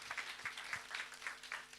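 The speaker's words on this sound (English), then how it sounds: "Another round of applause to them" Sparse, fairly quiet clapping from a seminar audience, individual claps picked out in an uneven rhythm against a soft room background.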